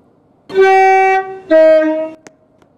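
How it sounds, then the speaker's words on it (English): A loud two-tone train horn from a non-stopping train passing a station platform in the Roblox Stepford County Railway game, sounding one long blast then a second shorter one, close and clear with no talk. "The train now approaching platform 5 does not stop here."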